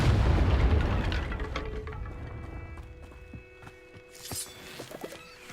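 Confringo fire-blast spell explosions from Hogwarts Legacy open with a loud, deep boom that fades, followed by smaller scattered pops and crackles.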